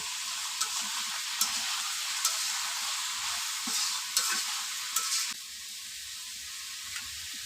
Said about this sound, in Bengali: এখন নাড়াচাড়া করব